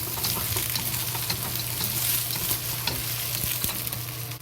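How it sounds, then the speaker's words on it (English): Tofu and green pepper frying and being stirred in a hot pan, with a steady close sizzle and scraping stir noises throughout and no talking. "And fry. And add the green pepper into it."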